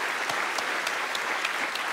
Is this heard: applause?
yes